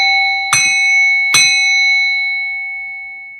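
A bell struck twice about a second apart, each bright, loud ring ringing out clearly and leaving a long sustained tone that slowly decays into silence.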